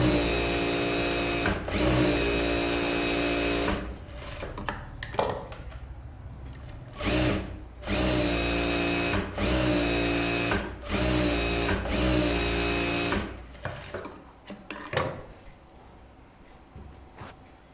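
Sewing machine stitching a blouse, bursts of rapid mechanical whirring lasting a few seconds each, broken by short pauses and clicks as the fabric is adjusted, close and steady, no talking.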